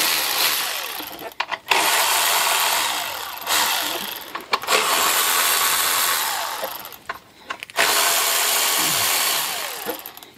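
A power tool with a 10 mm socket removing bolts from an engine mount on a 2000 Honda Odyssey whirs loudly in three long bursts, each dropping off briefly between runs, close up and steady while it turns.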